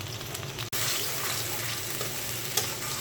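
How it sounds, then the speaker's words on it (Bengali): Onion and garlic paste fries in oil for a rui fish head curry, giving off a steady, dense sizzle that drops out for an instant and then carries on, with no talking. "পেঁয়াজ রসুন তেলটা ভেজে নিচ্ছি।"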